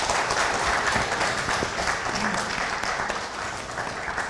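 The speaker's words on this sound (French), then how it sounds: "On applaudit Yusra." An audience applauds the winner of a game final in Mohéli, a steady, dense wash of clapping that stays loud and even throughout.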